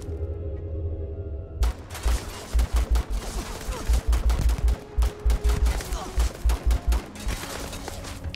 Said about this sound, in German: wenn die hier so wild auf mich schießen